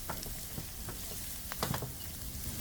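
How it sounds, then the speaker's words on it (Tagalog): Garlic and onion sauté in a hot pan for pork igado, a quiet, continuous sizzle with faint stirring taps and crackles and no talking. "Saka tayo magigisa ng bawang hanggang sa maging light brown."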